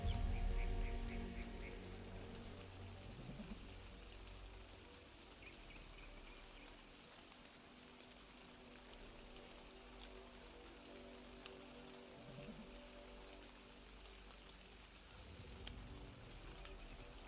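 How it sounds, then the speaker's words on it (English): Steady rain falls in a survival video game, a continuous soft hiss and patter holding at an even level throughout, with low rumbling underneath and no voices. "It is raining a lot."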